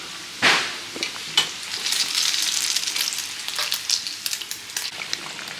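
A Mughlai paratha fries in oil with a bright crackling sizzle, punctuated by a few sharp clicks and spatters, fairly close.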